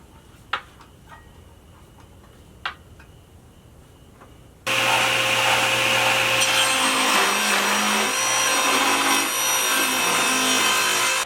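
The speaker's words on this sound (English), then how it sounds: "Okay, so I've got a piece of hard maple that I just cut on the table saw." A table saw rips a hard maple board: a couple of faint clicks, then the saw's loud, steady whine and cutting rasp start abruptly and continue evenly to the end.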